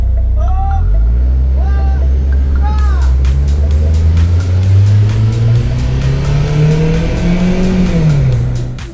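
A Daihatsu Sigra Turbo car accelerates hard along a very short track, its engine loud and close, pitch climbing steadily through the gears with revving, while people talk over it.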